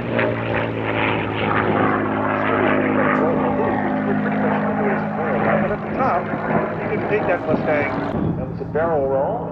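Propeller-driven aerobatic plane at an air show roars steadily and loudly while rolling through a barrel roll, its engine tone shifting throughout, with a voice faintly present underneath.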